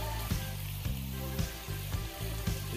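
Onion sautéing in oil with oregano and ground chili, a steady close sizzle broken by regular bursts of stirring or spatula scrapes about every half second, with no talk.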